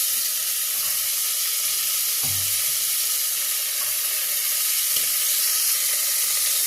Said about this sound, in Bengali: এবার এর মধ্যে আমি পেঁয়াজ আর আদাটা দিয়ে দিই।